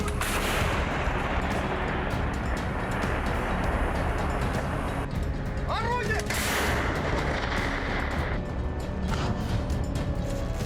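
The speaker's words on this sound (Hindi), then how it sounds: "डोनेत्स्क और लुहांस्क के हर कोने में रूस की हॉवित्जर तोपें गोले दाग रही हैं" Russian howitzer artillery firing shells in Ukraine, heard as dense, continuous booming and rumbling thunder of shelling with no gaps, loud and heavy throughout.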